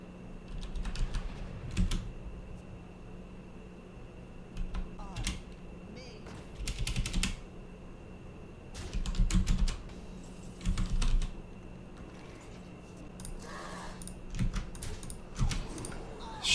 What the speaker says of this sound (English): I was like typing stuff in chat.